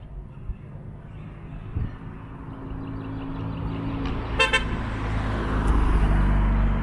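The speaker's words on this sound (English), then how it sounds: "Here we got a car on that side." Road traffic on a street sets the scene: a car approaches with a low rumble that slowly grows louder and nearer, a short horn toot sounds partway through, and faint voices are heard in the background.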